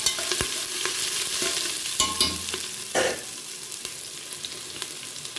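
Ginger garlic paste fries in a hot pan, sizzling loudly and steadily up close, with repeated scraping stirs and a few clanks of the utensil against the metal.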